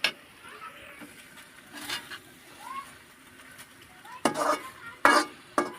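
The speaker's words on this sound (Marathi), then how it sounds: "तर इथे पास्ता पण टाकून घेतले मी त्याच्यामध्ये मिक्स करून घेते" Maggi pasta being stirred and mixed in a pan, giving soft scraping and clinking strokes with a few louder utensil knocks against the pan near the end, close up and without talk.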